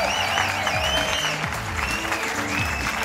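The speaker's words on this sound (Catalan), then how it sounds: "demanar un aplaudiment igual de fort i que ressoni exactament igual per Valentí" A studio audience on a Catalan TV show keeps up steady applause for a guest while tonal music plays underneath, holding an even level throughout.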